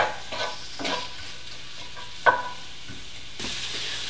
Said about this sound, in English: Got everything in the pan, and we're just going to let this cook down for a couple minutes.